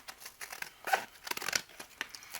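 Scissors cut through thick packaging close by, giving a short run of crisp snips mixed with crinkling and tearing plastic, fairly quiet and without talk.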